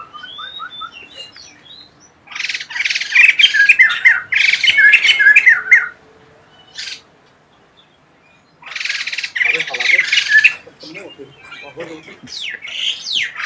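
A black-winged myna calls from an aviary in loud bursts of harsh squawks and chattering notes, two long bouts separated by a quiet gap, with shorter calls at the start and end.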